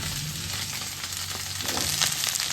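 Okra (bhindi) sizzles and crackles in hot oil in a pan while being stirred, a steady dense frying hiss throughout with faint scraping near the end.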